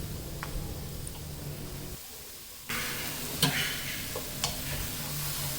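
Vegetables stir-fry in a home kitchen pan with a soft, continuous sizzle and a few scraping stirs and clinks, close by, with a brief quieter gap before the frying resumes.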